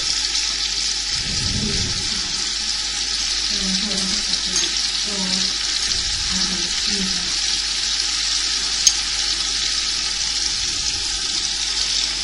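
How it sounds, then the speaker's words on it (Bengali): Quail roast being sautéed slowly in a pan gives off a steady, even frying hiss throughout, with a few brief low stirring knocks near the start and faint speech-like murmurs underneath. "আস্তে আস্তে কষানো হয়ে যাচ্ছে"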